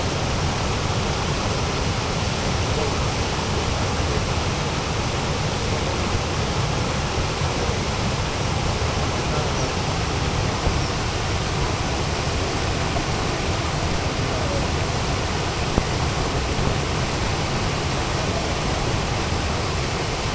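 Monsoon rainwater rushes down a stream in Konkan where fish climb upstream in the first rains, a loud, steady roar that holds unbroken throughout with no voices.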